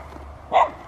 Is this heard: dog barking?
yes